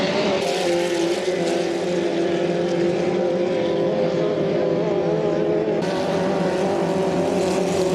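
Racing hydroplane boats in the 2.5L class roar continuously at a steady, loud pitch, engines droning together on the water throughout the clip.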